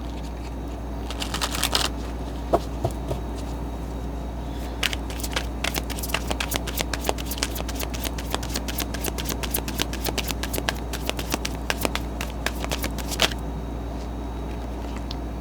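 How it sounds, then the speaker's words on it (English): A tarot deck is shuffled in rapid, dense bursts of card flicks and riffles, close by over a low steady hum, continuing for most of the stretch without any talking. "And do one more shuffle."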